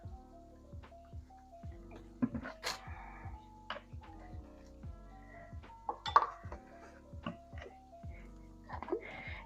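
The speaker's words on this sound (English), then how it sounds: "first I'm going to mix up my sauce, which is going to be 1 cup of barbecue sauce" A spoon clinking and scraping in a bowl while barbecue sauce is mixed, a run of light irregular taps and chinks at close range, fairly quiet and with no talking.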